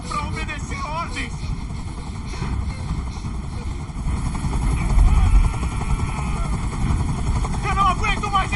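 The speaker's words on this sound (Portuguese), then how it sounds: "Eu não aguento mais esse barulho. Esse helicóptero tem que sair daqui agora." A helicopter in the video game Detroit: Become Human gives a steady, chopping rotor drone throughout, with speech over it.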